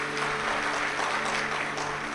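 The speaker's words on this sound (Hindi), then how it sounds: "एक बार जोरदार ताली बजाकर साथ भी पाए।" An audience at a Shiv Mahapuran religious discourse in Bhilai, Chhattisgarh, applauds loudly, a dense continuous wash of clapping at steady volume with a faint background hum beneath.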